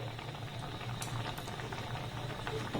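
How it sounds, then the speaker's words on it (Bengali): Sweetened milk with a pinch of saffron simmers down for malai sweets over a low-to-medium gas flame, a steady faint bubbling that runs without break and carries no speech. "আবার এটাকে আমি একটু ঘন করে ফুটিয়ে নেব"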